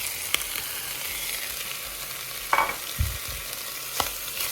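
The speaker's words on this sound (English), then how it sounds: "fry it until it is turning the color into brown." Pork frying with browned onions in a pan, a continuous quiet sizzle broken by a few sharp clinks and scrapes of stirring, close and alone without speech.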